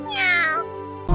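A kitten gives a single clear, close meow that rises and falls, followed by a short soft noise at the end; the clip comes from an AI-generated cat video.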